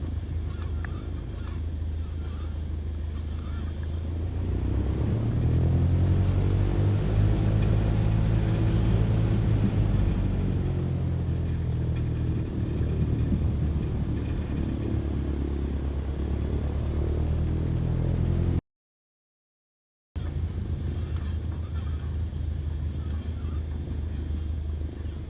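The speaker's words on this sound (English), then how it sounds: "Cessna 15668 is back taxiing runway 11 to the hangars." Cessna light aircraft engine in a flight simulator while back taxiing on a runway, a steady low droning hum that swells in the middle with shifting tonal sweeps, then cuts out briefly before resuming.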